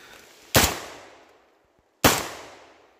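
Two loud, sharp shotgun blasts from a JTS shotgun firing at a range, roughly a second and a half apart, each with a decaying echo tail, no voices.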